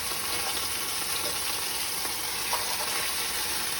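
Fish sizzling steadily in a hot pan, a dense, continuous frying hiss with no talk over it.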